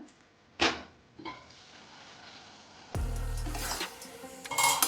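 A lid set onto a pan of onion-beetroot curry makes a sharp metallic clank, then lighter scrapes. A louder rattling rub follows over the quiet kitchen background.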